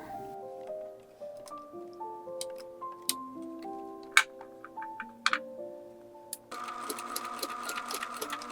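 A sewing machine stitches doll overalls in short stop-and-start runs, each with a rising whir, broken by sharp clicks and taps and ending in a faster, steadier burst, all close and fairly quiet.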